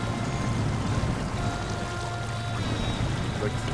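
A truck pushes through deep water in the off-road driving game SnowRunner, with a steady rushing, pouring splash over a low engine rumble that holds for a few seconds.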